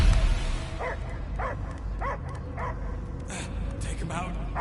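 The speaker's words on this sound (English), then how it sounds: "I hear only barking." Dog barking in the Guardians of the Galaxy video game: a run of six or seven repeated barks and yips at a steady rhythm over a constant game ambience, with a louder thump at the start.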